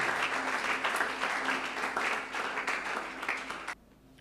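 A church congregation applauds at a Sunday service, a dense, steady wash of clapping that carries on for several seconds and then cuts off abruptly near the end.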